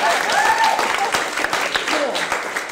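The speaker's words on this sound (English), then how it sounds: "You can clap again, that's good." A comedy club crowd at Gotham Comedy Club in NYC claps in a dense burst of applause that carries on steadily for a few seconds, with voices mixed in.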